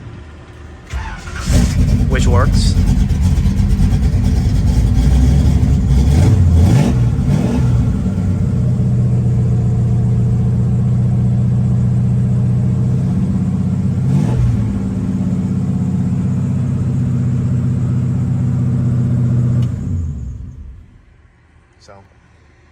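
A 1970 Chevrolet C10 short-bed pickup with a fuel-injected 383 V8 cranks and fires up, then revs and settles into a loud, steady, deep idle for most of the clip before shutting off, with someone speaking briefly over it.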